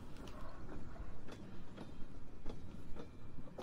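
A train rolls along in Pathologic 2, its wheels giving a rhythmic clickety-clack with periodic knocks over a steady low rumble, moderately quiet with no voices.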